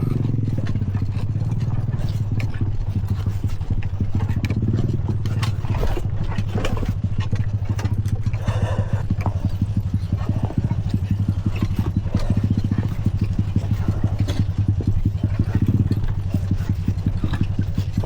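A motorcycle engine drones steadily up close, with constant rattling and clattering over the low rumble and no break.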